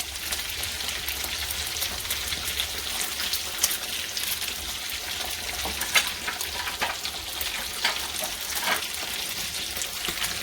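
Chinese kebabs fry on a hot oiled griddle, giving a steady, dense sizzle and crackle throughout with occasional louder pops, close and continuous with no talking.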